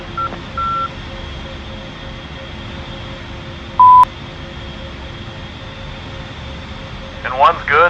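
A-10C jet engine idling before taxi in a flight simulator game: a steady, whining drone with a thin tonal hum, broken by a few short electronic beeps near the start and middle.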